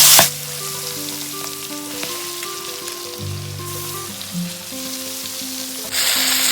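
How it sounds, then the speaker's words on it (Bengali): Marinated prawns frying in oil in a Bengali home kitchen, a steady close crackling sizzle throughout with scattered pops and a louder burst near the end; nobody speaks. "এবার আমি চিংড়ি মাছগুলো ভেজে নিচ্ছি সব চিংড়িগুলো একবারে ভেজে নেব"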